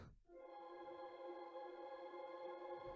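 A sustained, smooth synth pad chord, fully wet through the Cloud Seed reverb plugin, swells in after a brief attack and hangs with a wide, washy reverb tail, steady and mellow throughout, for lofi hip hop.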